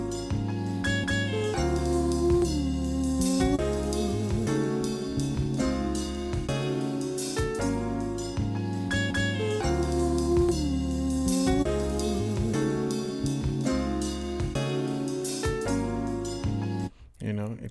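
Chopped vocal sample played across keys as a dense deep house groove, steady full-band loop with a sustained low bassline, loud and continuous with a brief dropout near the end.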